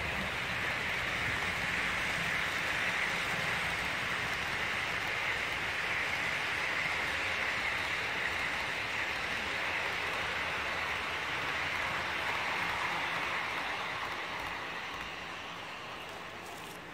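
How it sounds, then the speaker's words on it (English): A long freight train with double-stacked containers rolling by, a steady broad rumble and rushing noise that holds for a long stretch, then slowly fades near the end. "I'm just going to wait for the train to go by here."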